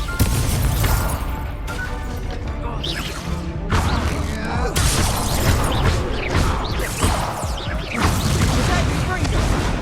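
Explosive spells cast in Hogwarts Legacy, including Confringo, with crashes, whooshes and booming bursts in a busy stretch of combat, and a voice speaking over the effects.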